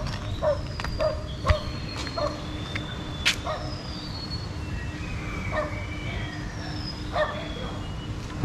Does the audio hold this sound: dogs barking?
yes